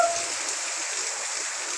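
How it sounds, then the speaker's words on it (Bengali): Steady hiss of rain falling, a continuous even wash of sound with no pauses. "এরা বৃষ্টি হচ্ছে"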